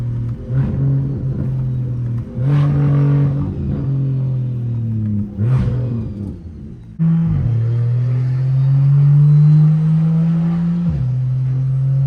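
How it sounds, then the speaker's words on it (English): A loud car engine running with no oil drones steadily while driving, with low rumbling tones that shift up and down as it accelerates and changes gear. "You guys can hear the car a little better."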